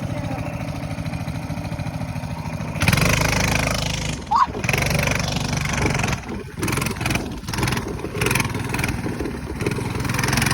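A small minibike engine runs steadily, a loud buzzing drone that revs up around the third second and then wavers with throttle changes, heard close by with some voices around it.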